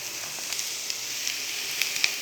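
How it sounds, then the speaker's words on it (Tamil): Vegetables and rice frying in a pan for fried rice, a steady soft sizzle with faint scrapes and clicks of stirring, close and quiet, with no voices. "காய்கறியோட சாதத்தையும் நல்லா கிளறி விட்டு"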